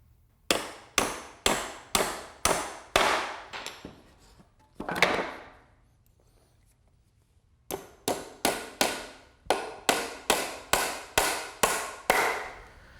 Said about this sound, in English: we're ready to nail it together